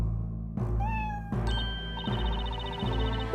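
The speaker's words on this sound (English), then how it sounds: "was it this cat?" A cat meows in the video game Professor Layton vs. Phoenix Wright: Ace Attorney, a short rising cry over steady game music and sound effects.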